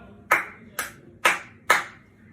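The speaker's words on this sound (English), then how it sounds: "Claps." Four separate, sharp claps spaced roughly half a second apart ring out in a stand-up comedy show, each one a brief bright smack that fades quickly, with no voices over them.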